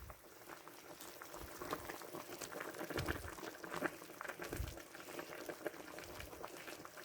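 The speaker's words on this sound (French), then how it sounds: "Alors là, ça bout. Hop, je baisse le feu à fond. Et maintenant, je laisse mijoter." Turkey wings stewing with onions and carrots in a casserole, a quiet, close bubbling simmer with irregular soft pops and gurgles throughout, no talking.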